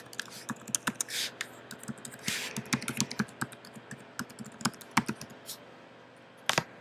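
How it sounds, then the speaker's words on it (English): Someone types a name and email address on a computer keyboard while setting up an email account: a run of sharp, close, uneven key clicks and taps, with no talking. "We're going to type in our name."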